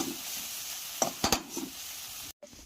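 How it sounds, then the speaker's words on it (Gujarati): Finely chopped vegetables sauté in hot oil with cumin and mustard seeds for a besan sabji. A close, steady sizzle is broken by a few sharp spoon clatters against the pan, then cuts out briefly near the end. "કટિંગ કરીને મૂકી છે ઝીણી, એ તેલમાં સાંતળવાની છે."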